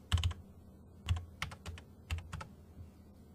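Keys on a computer keyboard tapped in short clustered bursts while a password is typed, a few quick strokes at a time with brief pauses, close and fairly quiet, no talking.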